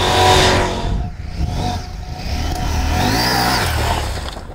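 Husqvarna 901 Norden Expedition motorcycle engine revving up and easing off, a mid-pitched rising and falling roar heard fairly close, repeated over a few seconds on its own.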